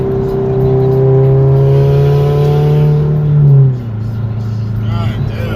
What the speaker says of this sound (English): That thing sounds so cool when it spools up.